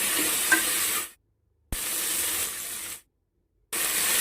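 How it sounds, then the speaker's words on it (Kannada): Field beans and curry leaves sizzle in hot oil in a pressure cooker, a steady frying hiss in bursts separated by abrupt silences. "ಸ್ವಲ್ಪ ಕರಿಬೇವು ಸೊಪ್ಪು ಹಾಕ್ಕೊಂಡು ಅವರೆಕಾಳು ಹಾಕ್ಕೊಂಡು ಬಿಸಿ ಮಾಡ್ಕೊತಾ ಇರಿ"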